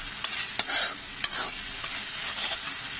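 Tomatoes cooking down to a mash in a pan while a spoon stirs them, giving a steady soft sizzle with a few sharp scraping clicks. It sounds close and carries no speech.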